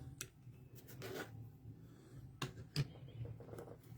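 Rotary cutter or blade trimming quilt fabric along an acrylic ruler pressed firmly onto the block: soft scraping and rubbing strokes with a few sharper ticks, quiet and close.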